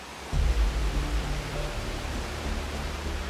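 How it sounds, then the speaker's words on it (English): Steady broad roar of a massive waterfall just ahead in a cold river gorge in Taiwan, a dense rushing hiss that swells slightly early on and then continues unbroken with no voices. "I've got a massive waterfall just up ahead here."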